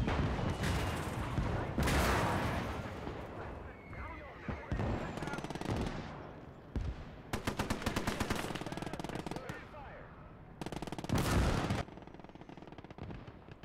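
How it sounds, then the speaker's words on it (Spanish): Mortar and artillery fire in the game Gates of Hell: repeated loud blasts and rattling bursts of gunfire come in clusters, separated by brief quieter gaps, with a voice talking between them. "aquí tenemos más morteros"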